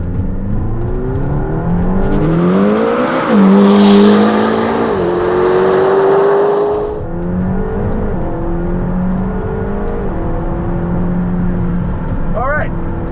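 A 2020 McLaren GT in track mode with sport suspension climbs a hill under hard acceleration, its engine note rising steeply through several upshifts, loud and close, with a person talking over it.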